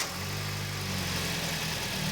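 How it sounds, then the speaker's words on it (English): A car engine idles steadily during a transmission fluid flush, a continuous mid-pitched hum close by with no change in speed. "we start the engine."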